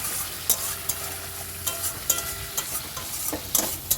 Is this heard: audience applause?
no